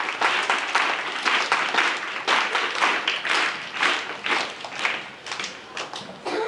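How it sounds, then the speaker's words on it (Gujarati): A school gathering at a Republic Day celebration breaks into sustained applause, with many hands clapping in dense, uneven bursts that hold steady for several seconds. "એમનો આભાર માનીને તે તાળીનો માન આપીએ."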